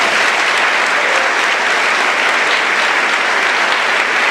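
A church congregation applauds in a steady, dense wash of clapping that stays loud and even from start to finish.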